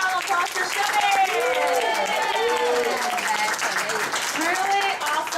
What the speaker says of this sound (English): Can we do another round of applause for Chevy?